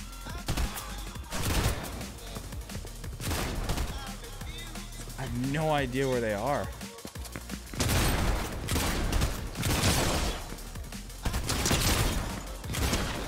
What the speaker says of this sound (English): Are these like three bots just like shooting at each other right now?